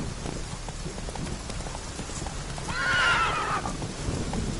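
Roach, a horse in the video game The Witcher 3: Wild Hunt, gives one clear neigh and whinny lasting about a second, set over steady galloping hoofbeats and soft rain.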